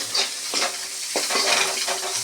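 A spoon stirs an ingredient mix frying in a pan until brownish, with a steady sizzle and a few soft scraping strokes against the pan.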